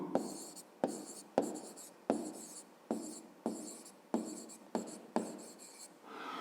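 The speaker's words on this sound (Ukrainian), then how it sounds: "Записуємо." A pen writes out a fifth-grade math word problem by hand on paper, with about ten rhythmic scratching strokes, each starting with a sharp tap and then a short rasp, close and fairly quiet.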